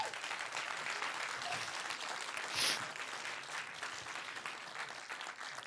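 An audience at a short film festival applauds filmmakers who made films in 48 hours, with dense, steady clapping that swells briefly midway, heard at moderate distance.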